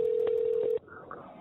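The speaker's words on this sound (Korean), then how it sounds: "지난달 112에 신고 전화 한 통이 걸려왔습니다" A steady electronic telephone tone holds on a call to the 112 emergency line, cut off abruptly partway through and followed by faint line noise.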